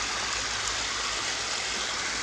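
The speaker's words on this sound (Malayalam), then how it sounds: "ചെറുതായിട്ട് ചെറിയൊരു വെള്ളച്ചാട്ടമാണ്" A small waterfall flowing at a hilly off-road spot in Chengara, Pathanamthitta, giving a steady, unbroken broadband rush of water close by with no voices.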